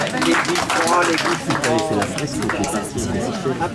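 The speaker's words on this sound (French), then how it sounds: "on peut les applaudir" An audience at an 80th birthday celebration applauds, with clapping mixed into lively crowd chatter and voices throughout, moderately loud and close.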